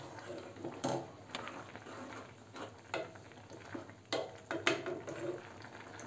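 Milk cake mixture with broken jaggery reducing in a pan, stirred continuously: soft bubbling and scraping with intermittent louder spoon strokes against the pan, close and fairly quiet, no talk.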